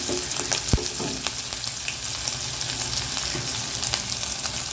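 Crushed garlic and finely chopped ginger frying in hot oil for roadside-style idli sambar, a steady close sizzle and crackle running throughout with one sharp pop near the start.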